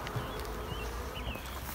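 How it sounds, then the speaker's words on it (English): Honey bees on frames in a nuc box give a faint, continuous buzzing hum with a few higher passing drones, close by and quiet, with low handling bumps beneath. "You can see there's a fair amount of bees down inside there."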